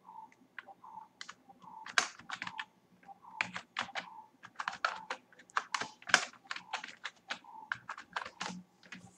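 Rapid, uneven keystrokes on a computer keyboard as a password is entered during a Red Hat Enterprise Linux 7 installation, close and crisp with short pauses between bursts of clicks.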